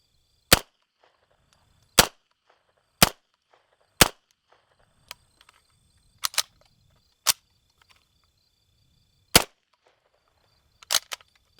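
A Zenith ZF5 MP5-style pistol fires subsonic 158-grain Fiocchi rounds, about nine single sharp cracks spaced one to two seconds apart, with quiet gaps between shots and no talking.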